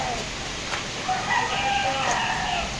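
A rooster crows at a distance over steady background noise, its call drawn out and fairly faint.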